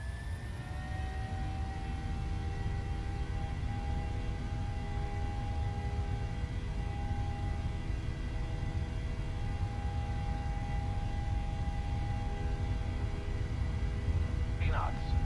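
A steady, loud jet roar fills the whole stretch as PMDG 737 engines run at takeoff thrust in Microsoft Flight Simulator 2020, with a high whining tone held above the constant low rumble.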